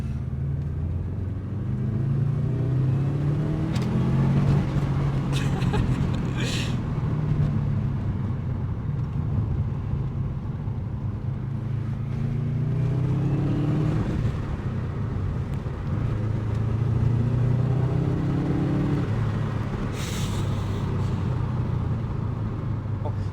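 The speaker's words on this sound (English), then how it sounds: "Listen to that burble off the exhaust, wow." Subaru Impreza Series McRae exhaust burbling with a steady, deep, rumbling low tone that swells gently in a few waves, heard from inside the car at moderate loudness.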